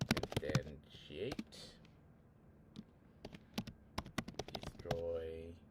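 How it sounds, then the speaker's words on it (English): Code is typed on a computer keyboard in quick, close bursts of crisp key clicks with short pauses between runs, and brief talking at the start and end. "So I'm going to type in instantiate"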